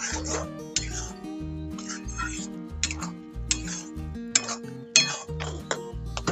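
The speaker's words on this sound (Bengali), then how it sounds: "এবার এটাকে ভালো করে নেড়ে চেড়ে নেব।" Spinach paste being stirred in a pan for palak paneer, with clinking and scraping of a spoon against metal in short bursts over a humming, tonal background, fairly quiet and close.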